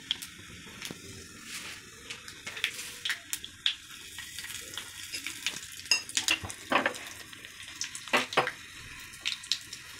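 Cumin, mustard seeds, chilli, curry leaves and dal crackle and sizzle in hot oil, with quiet close spitting and sharp scattered pops of popping seeds over a soft frying hiss.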